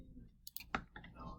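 Keys tapped on a calculator while working a cosine reciprocal problem, a few quiet, sharp clicks in quick succession against near silence.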